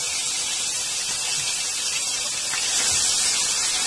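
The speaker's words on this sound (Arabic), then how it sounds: "معايا هنا صدر فرخه كبير مقطعاه مكعبات، ومعايا طاسه على النار فيها نفخه زيت صغيره." Cubes of chicken breast fry in a little oil in a pan on the stove, giving a steady, even sizzle and hiss throughout with no talking.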